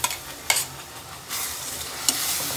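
A paste of onion, tomato, coriander and coconut hits a hot pan and fries, giving a steady close sizzle with a few sharp spatters and stirring scrapes.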